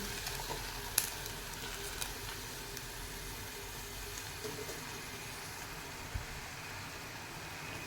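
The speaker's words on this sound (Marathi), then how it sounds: "मेथी मी इथे घातलेली आहे थोडा वेळ परतून नंतर त्याच्यामध्ये थोडंसं पाणी घालून आपल्याला ही मेथी शिजवून घ्यायची आहे" Fenugreek leaves sauté in a pan with a soft, steady sizzle and a few faint stirring clicks, quiet and close, with no one speaking.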